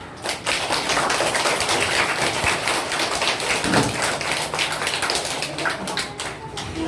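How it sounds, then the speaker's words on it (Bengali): Children at a primary school reading festival clap to welcome a guest, a steady crowd of many small hands applauding throughout, dense and continuous at close range. "হাততালি দাও।"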